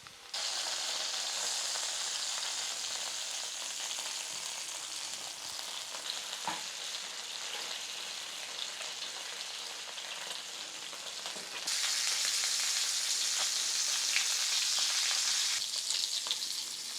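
Bacon-wrapped pork tenderloin fries in a pan in a steady, soft hiss that holds level, then jumps noticeably louder and brighter partway through, with a few faint knocks.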